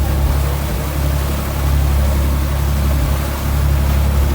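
Loud, steady motorboat engine drone on a tour boat at Halfeti, Turkey, with rushing water and wind noise, continuous and close, no voices.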